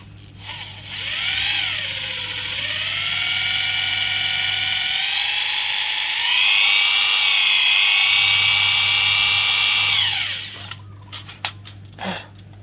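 A power drill grinds into the hard steel of a rat trap cage being repaired, a loud, sustained whine with shifting pitch lasting about ten seconds before cutting off, followed by a few scattered clicks and knocks.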